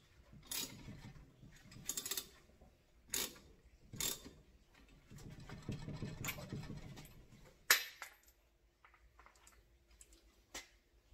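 A wrench is cranked to tighten a fitting on a hydraulic hose while building a 14-bolt rear steer axle, giving quiet ratcheting clicks in short bursts with pauses between turns, then a sharp metallic clank as it bottoms out.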